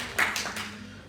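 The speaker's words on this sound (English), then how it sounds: "Big clap." An audience at a marriage workshop claps in a short burst of a few sharp hits that quickly fade, with no speech.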